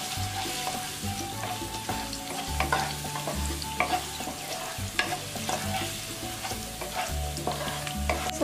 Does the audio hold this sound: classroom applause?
no